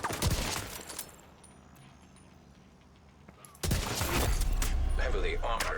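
Video game gunfire with a hotshot trigger in a shooter, several sharp shots at the start then a burst of loud repeated firing near the end, with a quiet lull between and voices over the game audio.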